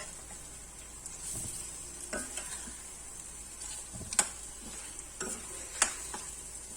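Beef masala curry frying in a pan, a quiet low sizzle with scattered scrapes and clicks of a spoon stirring against the metal, several sharper taps standing out near the end.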